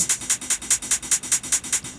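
A steady run of sharp hi-hat hits, about ten in two seconds, with a thicker, layered texture and a slight swing, played alone and up front.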